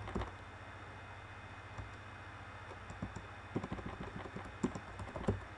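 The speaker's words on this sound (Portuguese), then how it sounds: "Vamos digitar aqui" Keys clatter on a computer keyboard in quick, uneven bursts, faint and close, gathering into denser clicks toward the end over a steady low hum.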